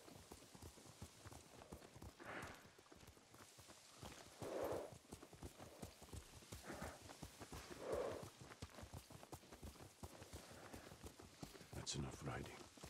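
Horse hooves clip-clop in a steady, rapid rhythm while riding in Ghost of Tsushima, close and continuous beneath people talking throughout.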